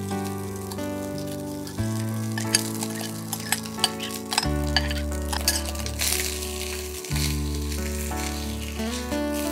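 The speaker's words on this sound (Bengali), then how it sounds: "একটু হালকা মিক্স করে নিয়ে একটু জাস্ট ভাজা ভাজা হবে হালকা" Bengali mango rice fries lightly in a pan while being stirred, giving a continuous crackling sizzle with clinks and scrapes of the spoon over a steady tonal background.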